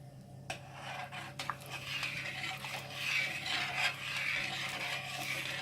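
Rice and red kidney beans being stirred in a pot, a soft continuous scraping and rubbing of a spoon against the pot with a couple of light knocks, fairly close and steady.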